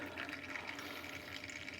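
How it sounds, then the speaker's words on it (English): Tomato water drips and trickles steadily through a sieve, a faint, continuous liquid patter with small splashes and no voices. "The tomato water will drip through."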